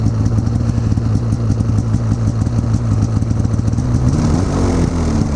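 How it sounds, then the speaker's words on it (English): A snowmobile engine with its stock exhaust idles loudly nearby with a steady, lumpy putter and clattery exhaust, briefly shifting pitch toward the end. "showing you the stock exhaust, which I just threw back on there to show you what it sounds like"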